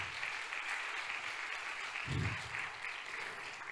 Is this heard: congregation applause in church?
yes